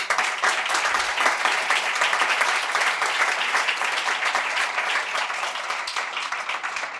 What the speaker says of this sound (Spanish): Por eso les agradezco ese aplauso a Pepe.